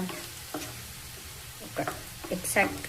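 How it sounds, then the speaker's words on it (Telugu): Turmeric being stirred into onions frying golden brown in a pan, a soft sizzle beneath scattered scraping and stirring clatter from a spoon, a few louder knocks toward the end. "పసుపు వేసి కొంచెం మిక్స్ చేయండి"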